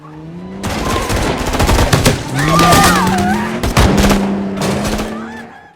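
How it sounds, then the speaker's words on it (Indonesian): Rapid bursts of gunfire crackle in a gangster shootout from the film Silent Night, loud and dense, with sharp repeated shots layered over a tonal score and effects. "ada dua kelompok gangster yang sedang terlibat baku tembak"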